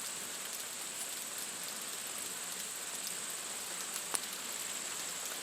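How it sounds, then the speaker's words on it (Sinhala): Steady rain falls over a paddy field in hilly country, a dense, even hiss with no voices, one sharp tick standing out near the end. "අපිට වහිනවා."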